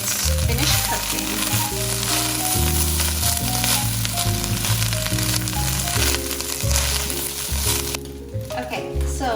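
Egg fried rice sizzles loudly and steadily in a hot pan, a dense close frying hiss with a tune playing underneath that thins out near the end.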